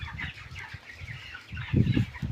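Chickens in a poultry shed housing about 5000 birds cluck and murmur close by, a dense chorus of soft calls rising louder toward the end.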